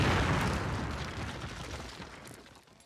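A grenade explosion in a Call of Duty training sequence: a loud, close boom opening at full strength, then a rumbling roar that slowly decays over a few seconds.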